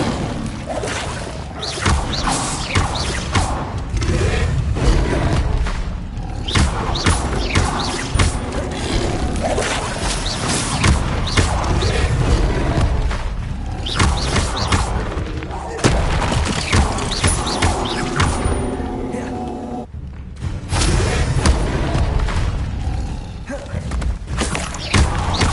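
Fiery Incendio spell blasts in a Hogwarts video game, loud dense booming thuds and crackling bursts that follow one another almost without pause, with brief drops around the middle and end.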